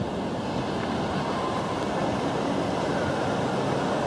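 Steady rushing water roars continuously, a dense, even wash of noise like a waterfall heard up close.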